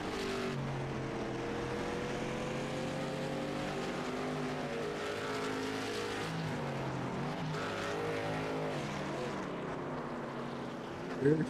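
Late model stock cars roar around North Wilkesboro in the closing laps to the checkered flag, a continuous loud engine drone with rising and falling pitch sweeps as cars pass, ending in a brief louder burst.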